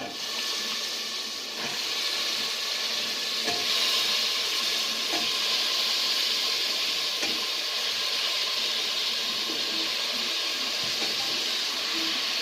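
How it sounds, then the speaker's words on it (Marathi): Brinjal and potatoes added to roasted masala in a pan let out a steady, even sizzle with a hissing wash, close and continuous throughout. "मसाला चांगला भाजला की त्यात आपण वांगे बटाटे टाकू आता याच्यात वांगे बटाटे टाकून घेऊ"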